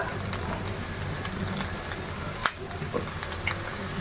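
Kalmi greens frying in a pan with a fried egg, a dense steady sizzle like rain on a surface, broken by a few sharp ticks and taps, moderately quiet and close.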